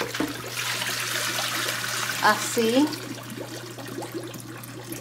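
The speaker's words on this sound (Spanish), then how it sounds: "le vamos a tirar la agua que tiene cal" Lime water is poured off candied pumpkin in a home kitchen, a steady watery rush and trickle with someone speaking briefly.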